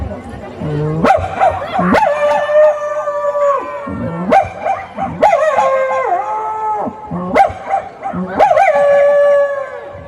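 A person mimics a dog with repeated howling and yelping cries, pitched and wavering, in several close, loud bursts.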